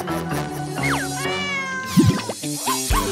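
A cat meows a few times amid a busy, cartoonish mix of music and sound effects, with tonal sweeps and rising, falling calls standing out clearly over the background.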